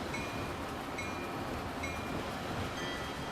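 A diesel train rolls past in Transport Fever 2, a steady, even rumble with faint high squeals and clatter, moderately near and without talk.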